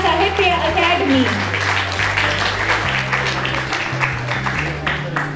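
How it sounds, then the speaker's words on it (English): Audience applause at a literary festival honouring an award-winning caricature artist, a steady crowd clapping throughout, heard under a sustained musical drone and some voices. "A huge round of applause."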